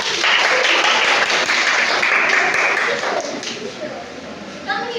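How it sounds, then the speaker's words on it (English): An audience gives a round of applause for a performer at a classroom light-and-sound demonstration, a dense, loud wash of clapping that holds steady, then thins and fades toward the end. "let's give her a round of applause"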